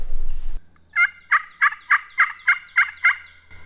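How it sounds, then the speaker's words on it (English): A wild turkey gobbles in a fast rattling series of about eight rising notes, clear and fairly loud at middle distance, after a brief burst of rustling. "Thought I heard a gobble."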